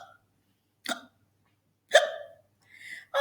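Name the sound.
hiccups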